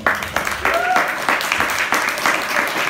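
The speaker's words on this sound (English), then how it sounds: "give her a clap for that" An audience claps for a speaker at a Tech Doc Fest Q&A session: a burst of scattered, crowd-sized applause with uneven peaks, and a brief voice or whistle cutting through the middle of the clapping.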